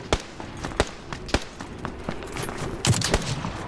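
Sharp gunshot cracks ring out one after another at uneven intervals, punchy and close, over a low rumbling background with no talking.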